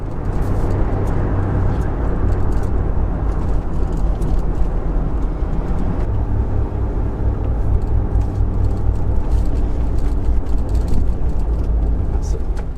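Steady road and wind noise inside a moving Jeep, test footage for comparing soft and hard tops. The low drone is continuous and fairly loud, holding an even level throughout, and there is no talk.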